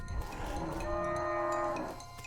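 A hell cow lowing in the video game West of Loathing: a single drawn-out moo of about a second rises over a low background rumble, with no talking.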